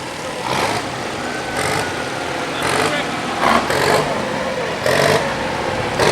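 Souped-up restored tractors with wheelie guards running in an old-time holiday parade, a loud rough engine drone with periodic revving surges, heard close under people talking.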